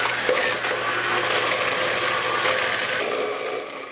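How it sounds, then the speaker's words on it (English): An electric hand mixer beating cream cheese with half a cup of sugar for an Oreo cheesecake, a steady close whirring motor drone with a gritty churning texture that eases off near the end, no speech. "Then I'll take my mixer and mix it until it's well combined."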